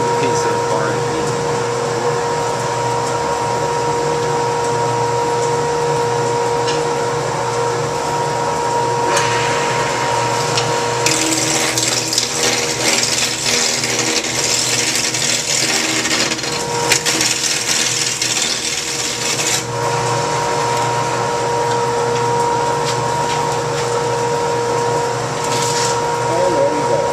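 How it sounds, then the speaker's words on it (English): A lathe turns a square piece of old barn beam wood round, with a loud steady motor whine and hum under continuous cutting noise that swells into a harsher, brighter chatter midway, then settles back. "now we're going to turn our square piece of barn beam wood into a round piece of barn beam"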